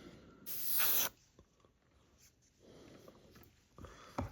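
An airbrush hisses paint onto a Tamiya 1/48 F-14A Tomcat model in a close, loud burst lasting about half a second, followed by faint clicks, a quieter hiss and one more short spray.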